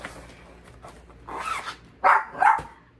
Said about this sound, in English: my dog started barking because my husband got home